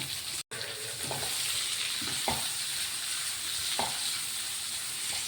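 Sliced onions tossed into hot oil in a pan while making mushroom roast, giving a soft, even sizzle with a few light stirring scrapes, close and fairly quiet.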